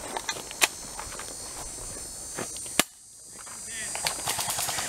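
Airsoft pistol gunfire during an outdoor game: a few sharp, isolated cracks spaced apart, over a steady background hum and faint rustling.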